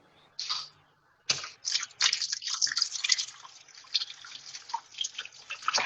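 Food is rinsed under a running kitchen tap, a close splashing stream of water that starts briefly, pauses, then runs steadily with irregular spatter and drips as the food moves under it.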